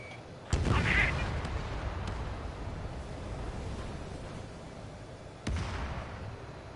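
A missile fires in a flight combat video game, followed by a sharp blast and a rushing roar, then a second sharp blast near the end, all over a steady wind-like rumble.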